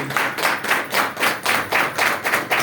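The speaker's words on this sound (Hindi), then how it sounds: "एक बार पूनम जी की भी तालियां हो जाए डॉक्टर अजीत जी के लिए" A seminar audience at a business presentation claps in rhythmic unison, about ten evenly spaced beats, loud and close.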